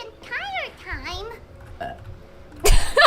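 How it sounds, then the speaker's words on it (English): Paimon, the small floating companion in Genshin Impact, gives a short, loud burp near the end, right after a stretch of high, sing-song character speech. "That was a cute little burp."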